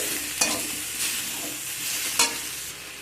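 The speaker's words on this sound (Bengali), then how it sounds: "লবণ দিয়ে সব কিছুকে ভালো করে আবার নাড়াচাড়া করে মিশিয়ে নেব" Salted spinach and mixed vegetables being stirred in a pan, a steady close scraping and rustling with a low sizzle throughout and a few sharper clanks, no voices.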